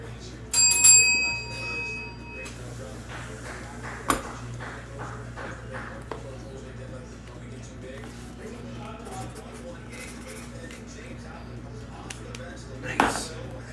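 A bicycle-style bell rings once, bright and sharp near the start, then fades under a steady hum while people talk and small knocks and taps follow during live sports card breaks.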